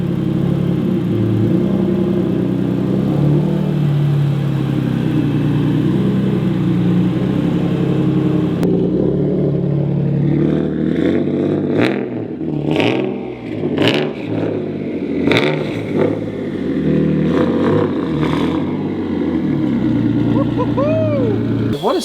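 A Porsche engine swapped into a Subaru runs on a dyno, first a loud steady idle, then a series of sharp revs that rise and fall in quick bursts, close and dominant.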